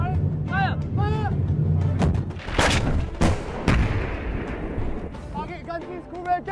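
A tank gun firing during military officer training: several heavy booming blasts amid engine rumble, with voices shouting and talking over the noise.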